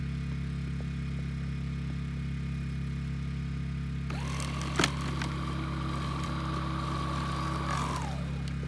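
A Snow Joe electric snow shovel starts up outdoors and throws snow, a steady mid-pitched motor whir with scraping crunches that runs for several seconds before winding down.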